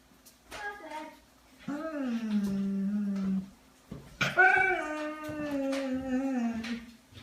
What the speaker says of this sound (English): Oh, that sounds like a dog.